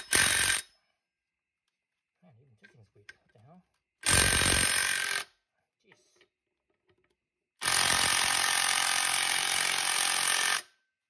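A cordless impact tool with a weak battery working on a wheel bolt of a Speed Twin motorcycle, three loud close bursts of rattling hammering, the last lasting about three seconds, with quiet gaps and faint speech between.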